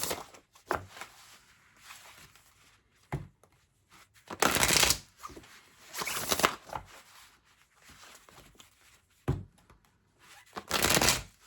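Deck of horror-themed oracle cards being shuffled by hand in several short riffling bursts separated by quiet pauses, close and fairly soft.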